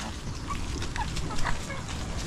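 Chickens clucking faintly amid a steady low rumble of outdoor background noise in strong wind, with a few short bird calls.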